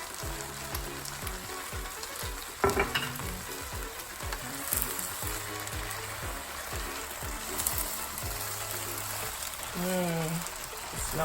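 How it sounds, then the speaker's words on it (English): Vodka sauce sizzles in a pan with chicken and pasta. There is a steady, close frying hiss with scraping stir sounds, and a voice talks over it. "Now I'm going to add my vodka sauce."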